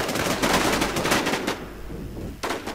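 Rapid bursts of gunfire in the online zombie survival game WarZ, several loud shots in quick succession, a short pause, then another burst near the end.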